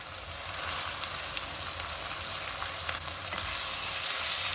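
Chopped coriander and mint leaves sautéing with rock salt in a pan for chicken biryani, giving a loud, steady, close hiss and sizzle that continues without a break, with no voices.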